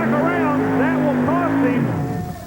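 A modified tractor powered by four Chrysler Hemi engines pulls at a 1989 tractor pull in Fishersville, Virginia, a loud sustained engine roar with rising and falling pitch sweeps, under an announcer's voice.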